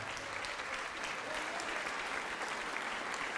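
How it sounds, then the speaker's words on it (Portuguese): A church congregation applauds during an evangelical Portuguese-language sermon, giving a dense, steady wash of clapping that holds evenly for the whole stretch, with no individual claps standing out. "Vamos aplaudir mais ao nome de Jesus."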